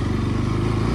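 A Bajaj NS200 motorcycle ridden off-road on a rough, steep track hums with a steady, close engine drone throughout.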